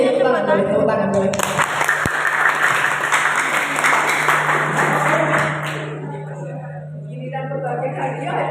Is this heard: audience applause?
yes